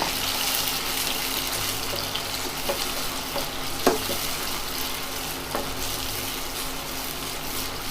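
Onions sautéing in a pan as tomatoes go in, a dense continuous sizzle with occasional spoon knocks and scrapes, close and fairly loud.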